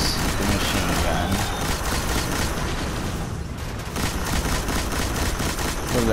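Heavy machine gun in Destiny firing in sustained, rapid bursts, loud and close, with a dense rattle that barely lets up over several seconds.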